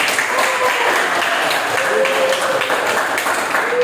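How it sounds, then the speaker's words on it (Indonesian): Audience applause following a group presentation in a classroom setting, a steady dense wash of clapping hands sustained throughout with faint voices mixed underneath. "mari kita aplaus untuk kita semua dulu"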